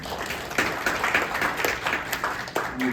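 Audience at a Korean National Assembly infrastructure policy forum claps steadily for several seconds, a dense, even patter of many hands filling the room with no voices over it.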